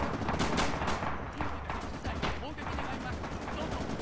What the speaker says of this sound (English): there are some suppression effects from the heavy machine guns here